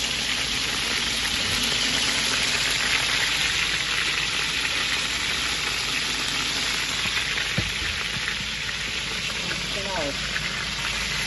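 Chicken for Jamaican stew chicken frying in a Dutch pot: a loud, steady sizzle continues throughout, with a single metallic clank midway and a few faint scrapes near the end.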